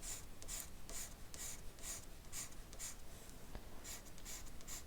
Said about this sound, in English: I'm just picking up my pencil and I'm making some hash lines on this side of my monster.